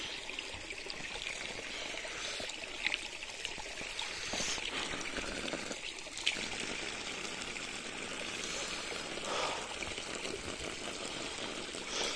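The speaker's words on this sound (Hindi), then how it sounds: "एक्चुअली में गाइस पाइप से यहाँ से आता है पानी" Water runs from a pipe outdoors in snowy Bhaderwah, a steady trickling, splashing stream heard close and moderately quiet for the whole stretch, with small irregular surges and no talking.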